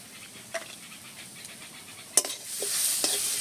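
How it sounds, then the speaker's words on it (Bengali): Chili, coriander and cumin powder frying in a pan while being stirred, with soft scraping strokes and a low sizzle that rises and grows steadier toward the end. "আমি আবারও একটু নেড়েচেড়ে কষে নিচ্ছি"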